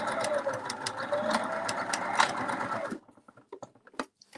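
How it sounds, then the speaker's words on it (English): A sewing machine stitches along opened fabric to close a channel, running steadily and fairly loud for about three seconds before stopping, followed by quiet handling clicks. "I'm going to sew as well along the bit that was opened to meet"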